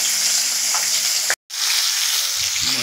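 Small chara fish fry crisp in a pan while being turned, giving a loud, continuous hissing sizzle. The hiss cuts out completely for a moment midway, then resumes at the same strength.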